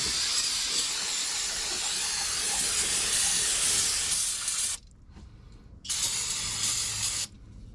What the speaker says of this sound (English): I'm going to spray this case out.